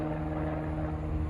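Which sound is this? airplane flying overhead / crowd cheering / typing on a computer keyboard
airplane flying overhead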